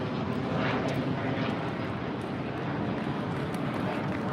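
An airplane flies overhead near a military area, a steady, broad engine roar that holds at a fairly even loudness throughout with no breaks, faintly distant and alone without talk.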